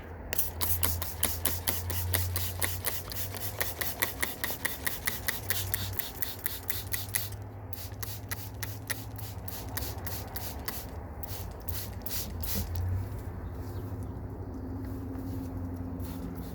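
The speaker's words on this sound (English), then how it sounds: "we're just going to spray them real quick." Rapid repeated spritzes from a spray bottle aimed at wasps, a quick series of short hissing squirts in bursts, with a low hum underneath.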